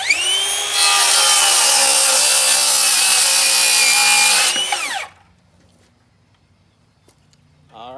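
A Metabo HPT 36V rear-handle circular saw cuts through wood, a loud, steady whine that runs up, holds for about four seconds, then winds down and stops, leaving near silence.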